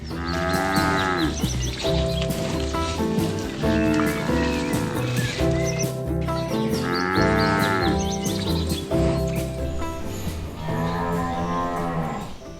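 Wagyu cattle on a large U.S. farm moo loudly and close by in long, drawn-out calls, several overlapping bellows rising and falling one after another with no talk.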